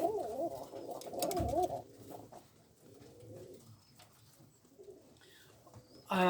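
Pigeons, including a blue bar African owl, coo in soft throaty bursts at a breeder's loft in Dundee, Scotland. The cooing is loudest at first, then fades into quieter, scattered calls and low background noise.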